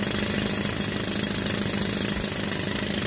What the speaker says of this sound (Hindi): देखिए ये सोप स्टोन में ड्रिलिंग हो रही है